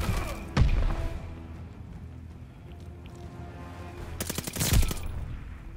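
Gunfire erupts in the Call of Duty Vanguard video game, a heavy burst near the start and a rapid automatic volley near the end, loud and punchy over a low steady game ambience.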